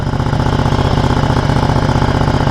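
A 2015 Ducati Multistrada 1200S idles close by, its engine a loud steady pulsing throb with an even rapid beat that holds throughout without speech.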